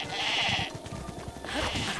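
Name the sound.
sheep bleating in a video game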